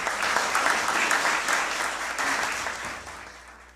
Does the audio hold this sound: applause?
yes